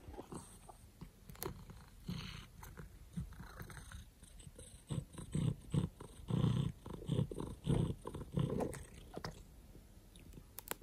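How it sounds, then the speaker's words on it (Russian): A house cat purrs while being stroked, a low, soft rumble up close with intermittent rustling and handling sounds and no talking. "Мурлыкает, я его сейчас погладила"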